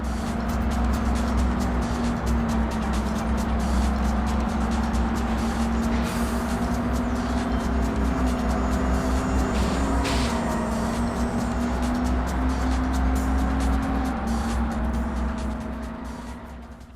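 Driving in the original Xbox racing game Apex: a steady, loud engine drone holds one pitch with slight wavering as the car cruises, under a constant rushing road noise that fades out at the end.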